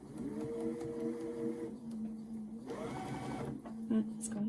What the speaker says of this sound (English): let's go ahead and sew now down this side.